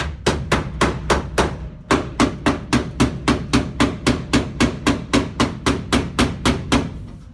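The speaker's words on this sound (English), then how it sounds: "Hammer it in." Rapid, steady hammer blows ring out on metal during a 1966 Chevy Nova race car build, about three per second, close and loud with a brief pause early on.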